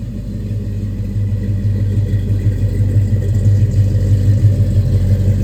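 A 1969 Chevrolet Chevelle Super Sport with a 468 big-block V8 and a five-speed manual running close by, a loud, deep, steady rumbling idle that swells slightly over a few seconds.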